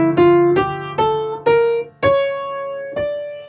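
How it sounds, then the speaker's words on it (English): A D harmonic minor scale is played one note at a time, six clear plucked notes ascending in steady rhythm, each ringing briefly before the next, close and alone. "The harmonic minor means that you have a flat 3 and you have a flat 6, but you have a natural 7, and it sounds like this."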